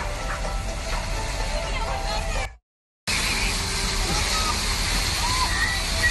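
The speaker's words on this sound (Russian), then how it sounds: "Кстати, фонтан музыкальный ничем не хуже," A musical fountain's water gives continuous rushing, sloshing splashes close by, with people talking over it and a brief dropout to silence midway.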